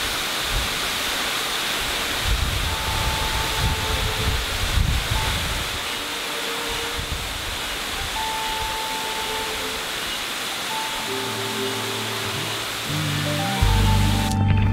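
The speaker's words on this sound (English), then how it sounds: "we reached the highest waterfall in Grenada." The highest waterfall in Grenada roars as a steady, dense broadband rush of falling water, loud and constant throughout, with no voices.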